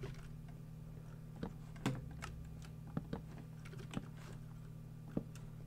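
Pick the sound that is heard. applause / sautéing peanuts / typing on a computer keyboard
typing on a computer keyboard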